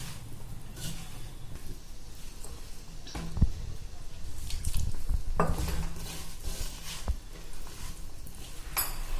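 Cauliflower florets are tossed with flour batter in a bowl for Gobi 65, giving soft, wet stirring and scraping with occasional sharp clinks of a spoon against the bowl, close and without speech.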